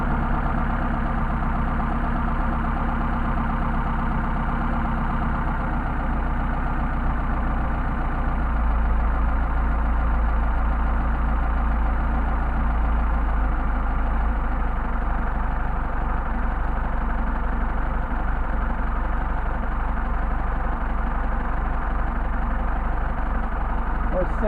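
Engine fitted with Solex 44PHH carburetors idling steadily as its idle speed is lowered, a continuous low rumble with someone talking over it throughout.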